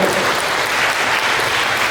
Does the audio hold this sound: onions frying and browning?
no